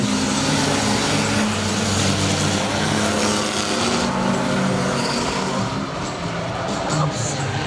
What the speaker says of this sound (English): oh, some great racing action down the back straightaway